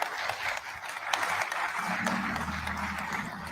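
A crowd claps at an outdoor groundbreaking celebration in Louisville, steady scattered applause with a voice or low hum rising underneath partway through.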